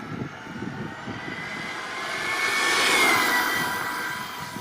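A JLB Racing Cheetah Extreme 120A RC car runs at full throttle outdoors, its electric motor giving a steady high-pitched whine and rushing roar that swells as it passes nearest, then eases slightly as it moves off.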